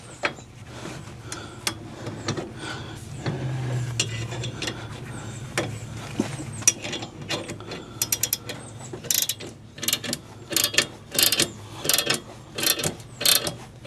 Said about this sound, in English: Get my wrench and see what happens.